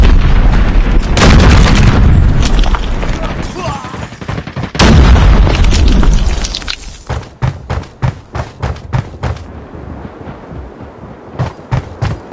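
Grenade blasts in the Call of Duty Mobile video game, two loud booming explosions a few seconds apart, followed by a rapid string of sharper gunfire-like bursts.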